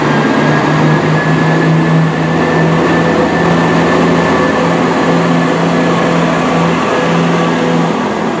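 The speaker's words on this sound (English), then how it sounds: "That train, this train here, that 158, is the delayed 1434 service to Norwich." Class 158 diesel passenger train at Nottingham station, a loud, close, steady engine drone with a faint high whine, continuous and alone.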